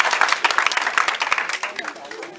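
Church congregation bursts into loud, dense applause and clapping, with cheering voices mixed in, a busy close crowd sound filling the room.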